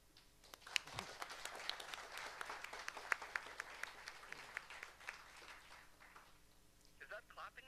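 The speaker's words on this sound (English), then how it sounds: "Is that clapping I hear?" A crowd applauding, a dense patter of many hands clapping steadily for several seconds and fading toward the end, with faint voices mixed in.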